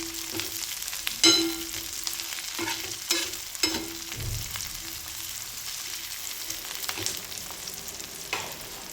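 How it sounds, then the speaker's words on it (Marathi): Onions and green chillies sautéing in a pan, a soft, steady sizzle broken by occasional scrapes and clinks as they are stirred, with no talking. "कांदा आता गुलाबी रंगाचा परतून घ्यायचा आहे."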